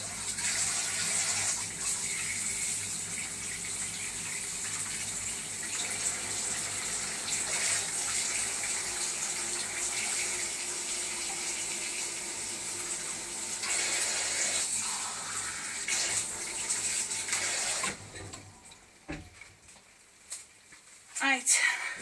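Hot water gushes steadily from a tap into a bowl for about eighteen seconds, a broad constant rush, then cuts off, leaving scattered small clinks and drips.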